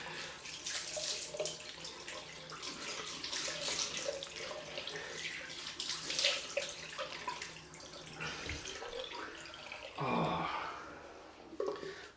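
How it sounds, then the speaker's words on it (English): Cold rinse water running from a tap during a head shave, a steady close hiss and splash lasting throughout, with a brief gurgling swell near the end and faint breathing sounds. "I love the cold rinse at the end, at any time of year."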